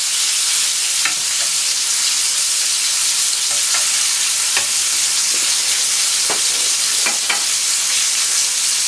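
A ribeye steak fries with onion and garlic, a loud, dense, even sizzle filling the whole span, dotted with small pops and spatters.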